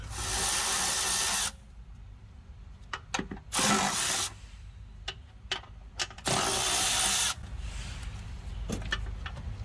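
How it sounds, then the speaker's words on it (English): A socket wrench ratchets in several quick, close bursts while removing car battery hold-downs, with clicks and clanks of metal between. "So let me grab a socket and get these hold downs off, and then we got to get this battery off."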